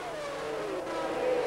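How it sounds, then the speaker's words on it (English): Honda-engined Formula 1 cars at the 1991 San Marino Grand Prix race past with a high, whining engine note that shifts pitch as they go by, at moderate distance, with no talking. "Now we'll see Senna getting a tow from the Tyrrell, and we'll see just how easily he can make it past. Remember, both Honda engines"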